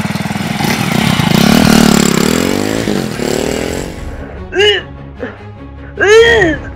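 A motorcycle engine starts and revs loudly for about four seconds in a horror audio drama, then fades as voices speak in short bursts.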